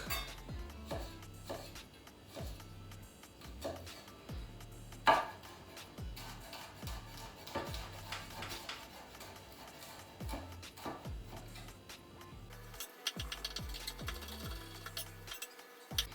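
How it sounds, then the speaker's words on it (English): Knife chopping garlic on a cutting board, a steady run of close, fast rhythmic taps that keeps going for the whole stretch, with no talking over it. "So we'll finally chop the garlic."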